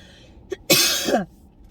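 A single loud, harsh cough rings out close by after a brief small throat noise, then quiet.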